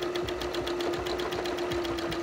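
A sewing machine stitches free motion wavy lines across fabric, its needle pounding in a steady fast rhythm with a constant motor whine, loud and close with no talking.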